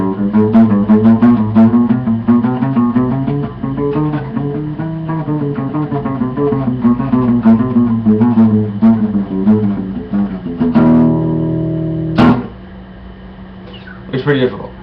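Acoustic guitar finger exercise known as the walk, played as a steady run of plucked single notes stepping along the neck, fairly loud and close, with a few sharper strums and pauses near the end.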